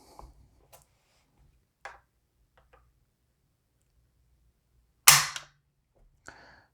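Gauge measuring the trigger pull on a PSA AK-104 rifle, ending in one sharp, loud metallic click, preceded by a few faint small clicks and followed by a softer click in an otherwise quiet room.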